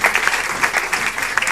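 Comedy show audience applauding the comedians, dense continuous clapping with crisp individual claps popping out, fairly loud and close.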